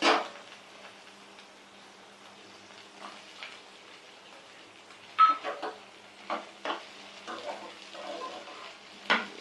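Ivy gourd and karonda pieces cooking together in a pan for chutney, giving a faint sizzle broken by scattered clinks and scraping taps of a utensil against the pan.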